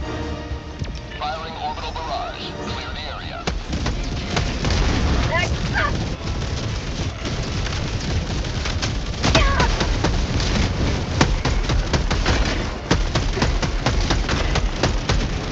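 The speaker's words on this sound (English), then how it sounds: "Orbital inbound. Firing orbital barrage. Clear the area." An orbital barrage in Helldivers 2 pounds with repeated heavy booms and crackling blasts that build in intensity, loud and sustained over several seconds while players talk over it.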